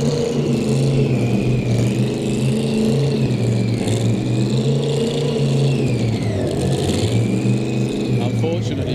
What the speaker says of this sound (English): Sounds like they're leaning it out to shut it off.